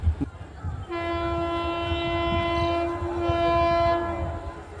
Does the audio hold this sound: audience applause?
no